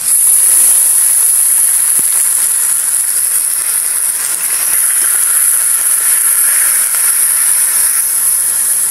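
Ginger, chili and onion sauté in a hot pan with bay leaves and whole peppercorns, making a loud, steady sizzling hiss that runs unbroken throughout with no voices.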